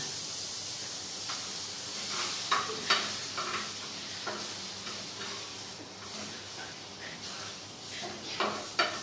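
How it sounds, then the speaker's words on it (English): Plantain fries in butter in a pan with a steady bright sizzle and hiss, broken by occasional scraping and stirring clicks, close up and with no talking. "This butter is to fry the plantain, the banana."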